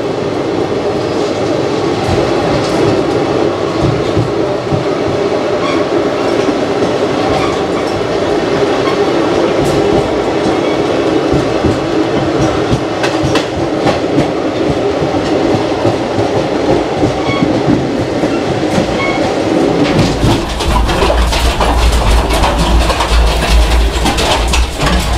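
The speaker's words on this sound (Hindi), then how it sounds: "कोच की आवाज़ आप लोग सुन रहे होंगे" A train coach rattles and clatters continuously while running through cold, foggy weather, loud and close from inside, with rhythmic clickety-clack and a deeper rumble swelling near the end.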